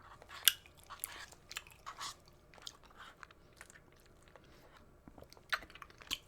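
Someone chews a boba drink topped with grass jelly and boba pearls, producing soft, close, irregular squishy bites and crunches in a quiet room.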